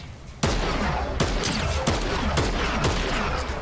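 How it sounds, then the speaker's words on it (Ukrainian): Rapid bursts of gunfire from the video game Fortnite, several loud volleys of automatic shots in quick succession, each burst sharp and close, with almost no pause between them. "Тобі стріляю, чуєш?"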